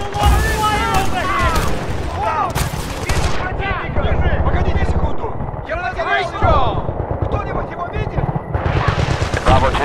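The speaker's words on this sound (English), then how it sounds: "Grenade, take cover!" Battlefield Bad Company 2 combat on the Cold War mission: a grenade blast amid continuous loud gunfire, explosions and rumbling battle noise, with soldiers shouting over the din throughout.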